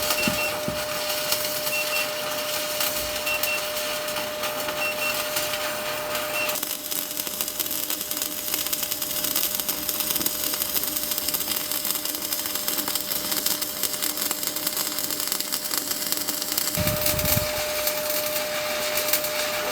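Continuous crackling hiss and buzz of stick welding with a steady electrical hum, starting and stopping abruptly as the arc is struck and broken, close and fairly loud.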